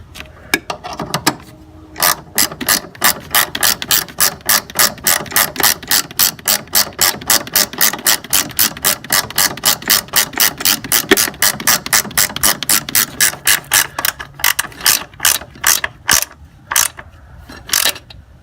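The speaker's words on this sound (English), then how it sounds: "And I just use a ratchety wrench there." A ratchet wrench tightens 14 mm upper control arm bolts on a 1999–2000 Honda Civic, a rapid, even run of sharp clicks close to the mic, with short pauses at the start and end and no talk.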